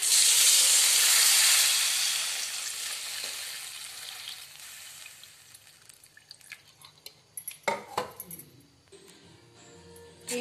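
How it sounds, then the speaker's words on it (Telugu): Tamarind water poured into a hot pan for pachi pulusu gives a loud, broad sizzle that gradually fades over several seconds, followed by quieter spoon-stirring clinks and scrapes. "ఇప్పుడు చింతపండు వాటర్ వేసుకుందాం."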